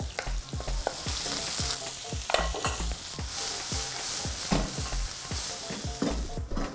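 Dried chili frying and being stirred in a pan of XO sauce, with a steady sizzle and rhythmic scraping strokes of a utensil close up.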